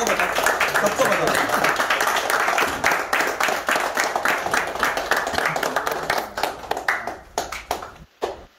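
Students clapping in a phone repair training classroom, a dense burst of close hand claps that thins out and slows toward the end while voices talk underneath.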